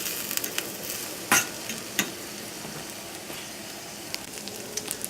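Onions sautéing in a pan for chicken breast lyonnaise, a steady soft sizzle with a few sharp clinks of a utensil against the pan, close and alone without talk.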